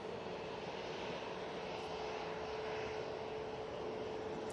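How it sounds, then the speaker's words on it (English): TUI airliner taking off down the runway at Manchester Airport, a steady broadband engine roar with a faint tonal hum, continuous and moderately distant throughout. "Whilst it's using a hell of a lot of runway up that TUI, saying it was just off to Naples."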